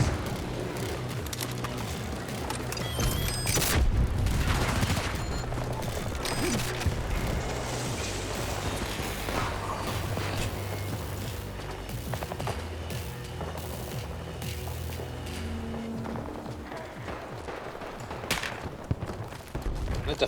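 Rapid video game gunfire crackles through a busy battle, with dense automatic bursts and scattered single shots layered over explosions and mechanical clatter for the full stretch, loud and continuous, with occasional speech underneath.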